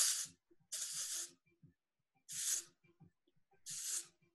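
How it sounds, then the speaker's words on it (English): Texture spray misted onto hair in short aerosol bursts, four distinct hissing sprays with brief pauses between them, close and clear. "I'm gonna give it a little bit of texture spray."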